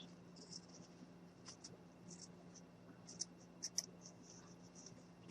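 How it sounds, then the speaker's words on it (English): Scissors snip and trim the edges of a handmade snowman ornament, soft close crisp cuts and rustling paper in a quiet room, a few sharper snips near the end. "we're just going to go in with our scissors, and we're just going to clean it up"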